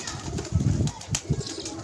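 Pigeons at a pigeon club coo in a few low, throaty pulses close by, with slight rustling between calls and no talking.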